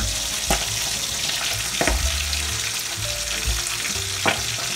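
Garlic sautés in oil in a pan for okra sisig, giving a dense, continuous sizzle with occasional knocks and scrapes of a stirring utensil, close and fairly loud.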